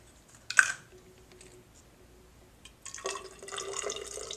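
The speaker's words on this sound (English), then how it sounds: "I'm going to pour a little bit of water in it." A short splash at the start, then a steady trickle of water pouring into a container, its pitch rising as it fills.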